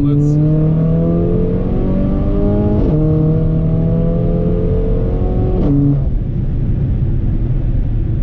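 Tuned Mercedes GLA45 AMG accelerating hard in manual mode, engine tone climbing loud and close through gears with brief shift breaks around three and six seconds, under a speaking voice.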